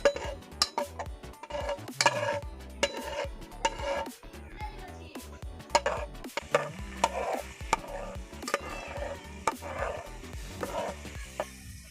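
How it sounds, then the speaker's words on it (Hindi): Finely minced garlic going into hot cooking oil over a low flame, a soft sizzle under repeated clinks and scrapes of a spoon stirring against the pan, close and steady. "गरम कुकिंग ऑयल में अभी लहसुन डालेंगे, बारीक कटे हुए लहसुन। और इनको हम धीमी सी आग पे भूनेंगे।"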